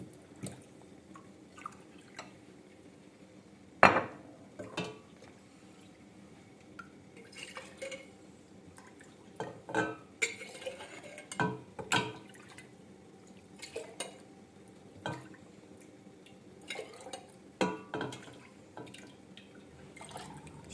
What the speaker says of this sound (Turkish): Şöylece bir yandan da çırpıyorum arkadaşlar.